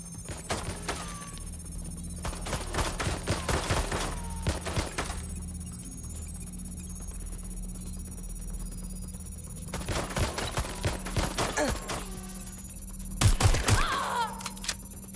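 Gunfire in Watch Dogs Legion on Xbox: clustered bursts of rapid shots at intervals, sharp and fairly close, with quieter gaps between volleys.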